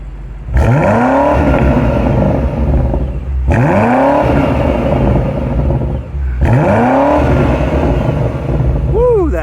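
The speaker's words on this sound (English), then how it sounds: "So let's go ahead and do some rev time with Erica." A 2024 BMW X6M engine is revved three times, each rev rising sharply to a loud roar that holds and then falls back, with a steady deep exhaust drone between the revs and close, loud sound throughout.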